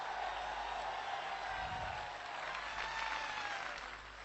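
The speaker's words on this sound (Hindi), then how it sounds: "जोरदार तालियां, दोनों हाथ ऊपर करके गिव अ बिग हैंड" A crowd applauds steadily for a few seconds, a dense even wash of clapping with no voices standing out.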